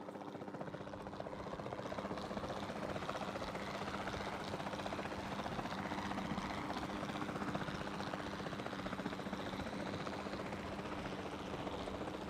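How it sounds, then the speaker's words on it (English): A capture team helicopter in Jurassic World Evolution 2 drones steadily with continuous rotor chop and engine whine, held at an even, moderate level throughout. "Then, the sensible thing is to take a capture team helicopter."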